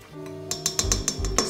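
Cream cheese being mixed with condensed milk in a bowl, a utensil clinking against the bowl in a quick series of about eight light, close taps.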